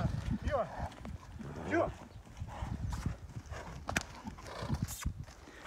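Heavy draft horse hooves clip-clop unevenly on the ground nearby, with a horse whinnying and people talking over it.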